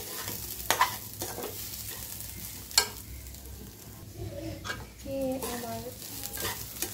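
Beef sizzles and fries in a pan while being stirred, with occasional sharp scrapes of a utensil against the metal over a steady crackle at close range.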